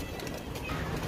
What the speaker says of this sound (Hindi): ये जी सामने अली वाला कबूतर